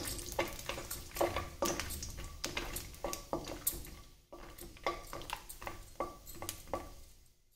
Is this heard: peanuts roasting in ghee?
yes